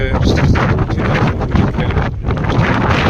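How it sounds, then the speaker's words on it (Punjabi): Strong wind roars loudly and without pause through a snowstorm in Canada, buffeting the microphone in heavy, continuous gusts. "ਸਨੋ ਤਾਂ ਪੈ ਹੀ ਰਹੀ ਹੈ ਤੇ ਹਵਾ ਤੇਜ਼ ਇਹਦਾ ਸੁਣਦਾ ਹੀ ਆ"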